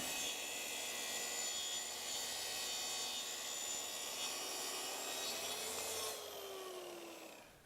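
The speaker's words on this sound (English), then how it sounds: "With the aluminum track guiding the saw's base, I know that I'm going to get perfectly straight cuts with minimal splintering." A track saw rips wood along an aluminum guide track, a loud, steady whining cut with a rasping edge that holds for several seconds, then the blade spins down as the motor pitch falls away.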